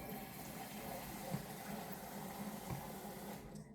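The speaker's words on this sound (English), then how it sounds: "I'm just going to run some water in that pot" Tap water runs steadily into a pot in a home kitchen, a continuous broadband wash with no talk over it, cutting off abruptly near the end.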